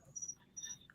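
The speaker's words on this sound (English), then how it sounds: "you hear the crickets and shit, yo?" Crickets chirping at night in Florida, a faint, quiet pulsing trill in short bursts over low background hiss, with no talking.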